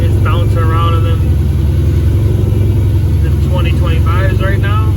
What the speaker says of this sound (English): fire this thing up and hopefully it starts.